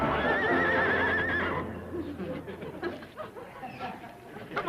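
A horse whinnies loudly and close at the start, its wavering neigh fading into scattered hoof clops and rustling movement in an outdoor Western comedy scene.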